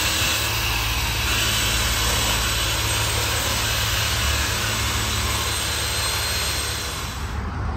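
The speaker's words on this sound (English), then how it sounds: "We're getting resonators cut off, at least a big suitcase." A Pontiac G8 GT exhaust resonator being cut off at a muffler shop: one loud, continuous harsh cutting roar holds steady for several seconds, easing slightly near the end, with no voices.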